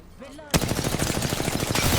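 Rapid automatic gunfire bursts out in an Apex Legends match, a sharp loud onset followed by a fast, steady stream of shots that continues to the end, with faint voices before it.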